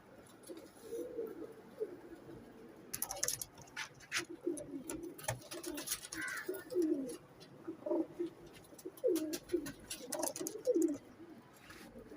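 Pigeons coo in soft, repeated low phrases close by, with scattered clicks and rustles in between and a faint background hum.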